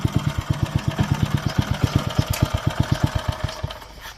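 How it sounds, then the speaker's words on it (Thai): A Robin 5 hp four-stroke gasoline engine with a reduction shaft runs close by, its steady, even chugging beats filling the air with no talk over it. "ดับเครื่องแล้วลองตั้นใหม่ดูอีกที"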